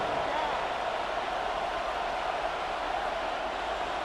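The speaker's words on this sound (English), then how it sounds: "This crowd into it now as we get to third down." A stadium crowd in the Madden NFL 26 football video game roars steadily and loudly without a break, a dense wash of cheering during a Raiders vs. Saints matchup.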